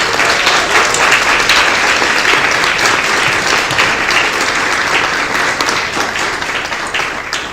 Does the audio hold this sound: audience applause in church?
yes